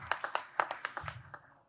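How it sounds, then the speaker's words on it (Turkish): A handful of separate hand claps ring out at a tourism and gastronomy summit, sparse and uneven, with a faint low murmur underneath as the brief clapping trails off. "Gökhan Sözen'e bir alkış alalım."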